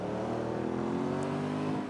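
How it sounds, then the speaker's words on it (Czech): Yamaha Ténéré 700 motorcycle fitted with an HP Quartz exhaust, riding on a road with a steady loud engine drone whose pitch rises slowly as it accelerates, heard close throughout. "jedu s výfukem HP Quartz, který jste mohli vidět už v některých z mých videí"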